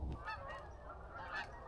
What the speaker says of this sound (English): All the birds are flying south.